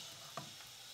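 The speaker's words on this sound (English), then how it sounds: "Oh, it still sizzles." Hot caldo poured over tortillas for tortilla soup sizzles faintly, a soft hiss with a single brief crackle, quiet and close.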